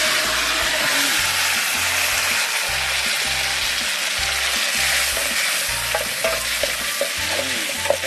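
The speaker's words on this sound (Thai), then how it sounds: "เขาก็ตั้งกระทะ นิดหน่อย ลงไปคั่วนะครับ" Steady sizzling as mole crickets roast in a hot frying pan, with rhythmic stirring and scraping sounds repeating throughout, loud and close.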